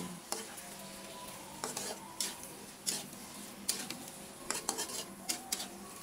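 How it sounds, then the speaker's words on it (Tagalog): Buttered shrimp stirred around a hot pan, a spatula scraping and knocking against the metal in irregular strokes over a soft, steady sizzle, close and fairly quiet with no talking. "Haluin ng haluin para maging balanse ang lasa at manuot sa ating hipon."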